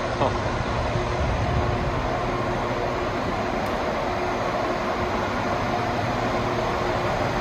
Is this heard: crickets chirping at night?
no